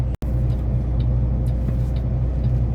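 A truck pulls out at a trucking relay point with a loud, steady engine rumble close by, a deep continuous drone broken only by a brief dropout at the start.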